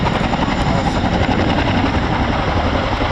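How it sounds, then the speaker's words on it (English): An RAF Chinook twin-rotor helicopter coming in to land at an airshow at Duxford, a loud steady rotor roar and engine rumble filling the whole stretch, close and unbroken. "monitoring the height of the aircraft as she comes into land"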